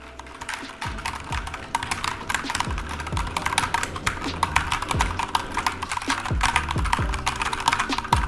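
Rapid typing on a Havit KB487L TKL mechanical keyboard, a steady stream of crisp clacks with occasional heavier thocks, close and fairly loud.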